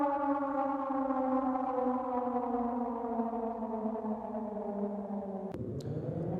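Air raid alert siren sounding in Panchkula, Haryana: a loud, steady, sustained wail slowly sliding down in pitch for several seconds before abruptly breaking off with a sharp click and a shifting tone.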